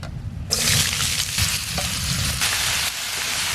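Chopped ash gourd hits hot oil and bursts into a loud, steady sizzle that holds from about half a second on, following a brief quieter start.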